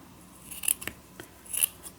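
Scissors cut vintage dotted Swiss fabric with a few crisp, close snips and slicing rasps spread over two seconds, with no talk.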